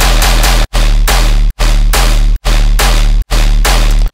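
Layered tearout-style gun sound effect sample with heavy sub bass, loud rhythmic bursts of distorted noise and booming low end chopped by short silent gaps, no talking.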